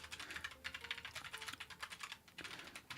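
Rapid, continuous clicking of keys on a computer keyboard, faint and close, with uneven bursts of keystrokes and brief pauses, heard alone without talk.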